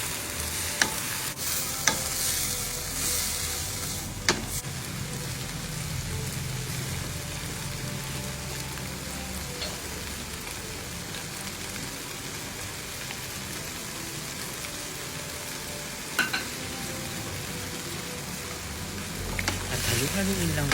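Beef stir fry with vegetables and onion leek being stirred in a pan, a steady sizzle and frying hiss running throughout with occasional sharp scrapes and clinks of the utensil against the pan.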